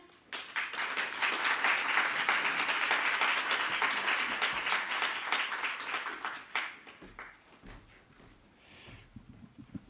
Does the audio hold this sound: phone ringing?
no